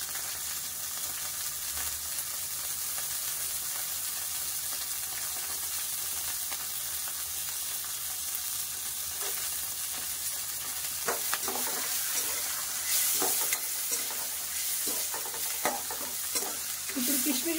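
Raisins, almonds and cashews frying in a pan for semiya give a continuous bright sizzle with light stirring scrapes toward the end, close and steady, with no talk.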